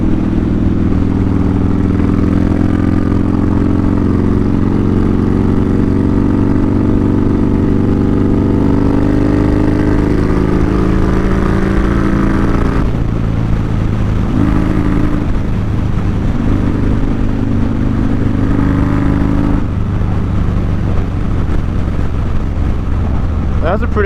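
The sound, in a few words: motorcycle engine and throttle revving while riding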